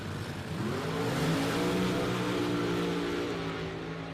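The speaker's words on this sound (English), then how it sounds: "Both drivers are off on the way on a green." Drag race cars launch off the line at a drag strip in Norwalk, Ohio, engines roaring loudly and continuously as the pitch climbs through the run, with no voices over the noise.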